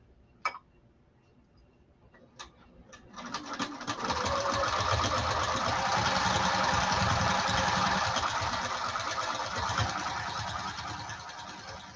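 A sewing machine with a standard presser foot starts with a few clicks, then spins up into a loud, steady stitching whir that runs for about eight seconds and eases slightly toward the end.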